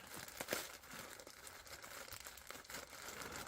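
Packaging of a vintage Montblanc and Pelikan pen box being cut open, soft continuous crinkling and rustling with a few sharper tearing snaps, close and quiet.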